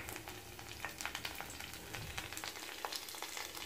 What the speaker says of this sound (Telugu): ఇంగువ అన్నీ వేసి 1 సెకండ్ వేయించాలి.